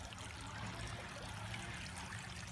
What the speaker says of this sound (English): You see a nice little water fountain there.